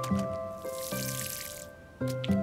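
Watering plants in the video game Paleo Pines, short trickling water splashes in a couple of bursts over steady game background music, no talk.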